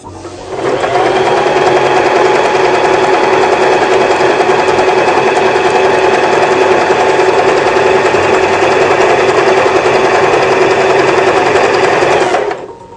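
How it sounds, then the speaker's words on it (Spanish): A sewing machine runs fast and loud, stitching elastic with a tricot stitch in one continuous whirring burst that starts and stops abruptly, close by and with no talking. "Para coser resorte utilizaremos la puntada de tricot letra D"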